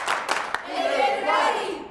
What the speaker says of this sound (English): If you hear me, clap your hands 3 times